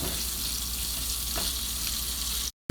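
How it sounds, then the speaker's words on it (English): Steak with salt and pepper being stir fried lightly in a pan, giving a continuous close sizzle with faint stirring scrapes, ending abruptly. "gonna stir fry the steak lightly just to warm it up"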